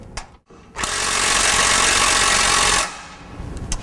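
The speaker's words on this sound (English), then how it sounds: "we're ready to go ahead and just cinch it all down" A power tool whirs steadily for about two seconds while tightening bolts on an evap skid plate for a Jeep JK, loud and close, with brief clicks and shop noise before and after.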